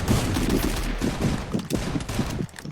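Rapid bursts of automatic gunfire in the video game Free Fire, dense and overlapping, loud throughout with brief uneven gaps.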